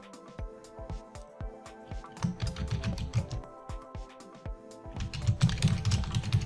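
Fingers type on a computer keyboard in uneven bursts of close, crisp key clicks, some strokes heavier than others, with no one talking.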